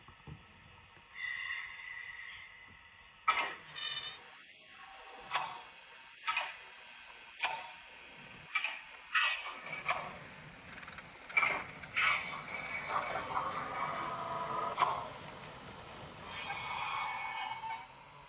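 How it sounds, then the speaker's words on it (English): A 1938 stock London Underground model train with a DCC sound decoder plays electrical contactor sequences: a series of separate clicks and clunks, then faster bursts of rattling clatter, close and fairly quiet, with no talk. "I'm sure you just heard the two different contactor sequences playing one after the other"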